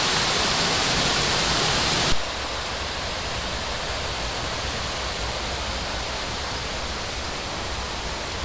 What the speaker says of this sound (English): And the River Wye down below.